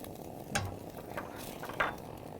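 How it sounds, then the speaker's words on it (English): Onion sautés gently in a pan with a pinch of salt, a soft low sizzle underneath a few light scrapes and clinks of a utensil against the pan. "So we're going to just go ahead and saute the onion."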